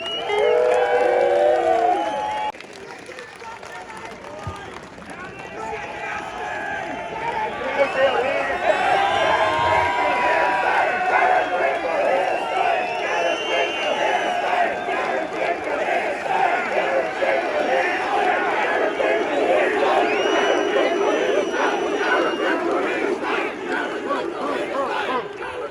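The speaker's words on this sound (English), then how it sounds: "Give him a round of applause." A crowd at a construction workers' union protest outside NSW Parliament House applauds and cheers loudly, with whoops and shouts sustained for the full stretch.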